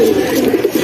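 Beji and Silver pigeons coo in a brief, close, continuous low murmur, with no voices over it.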